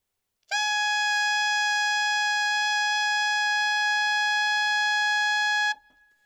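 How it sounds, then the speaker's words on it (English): An alto saxophone holds a high F played with an alternate fingering as a single bright, steady note for about five seconds, loud and close, then stops abruptly, with no talking. "And alternate high F sounds like this."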